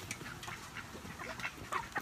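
Chickens cluck and squawk nearby in a short burst, several birds overlapping in a busy farmyard chatter.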